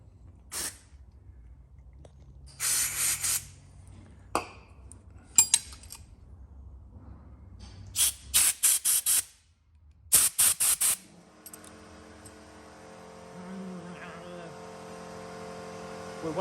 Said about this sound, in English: So we just give it a quick spray.